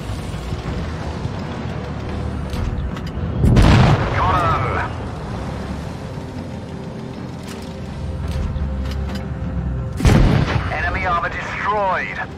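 Tank cannon fire from an FV4202 in World of Tanks Blitz, two heavy booming shots several seconds apart with ringing tails, over engine rumble and game voice callouts.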